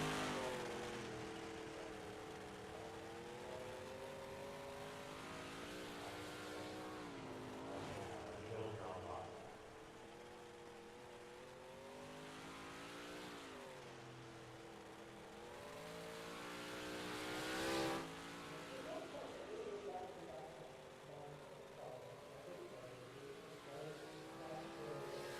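Open 358 Modified race cars circle the track during qualifying at an evening race, their engines droning and revving in rising and falling passes at a moderate distance, with a voice talking over much of it.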